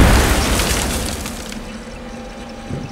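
A loud explosion in the video game Conflict: Global Storm opens with a heavy boom that rumbles and decays over about two seconds, followed by a faint thud near the end.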